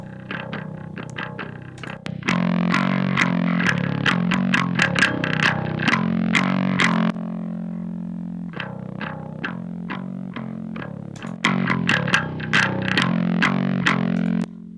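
Bass guitar played through an amp head alone with no cabinet simulation, giving a bright, distorted tone; rhythmic plucked notes come in two bursts around a held note, loud and close with no talking.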